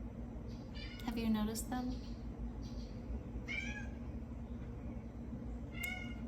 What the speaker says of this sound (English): I'm gonna go see what these cats want.